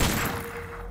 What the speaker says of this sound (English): Let's throw a frost bomb.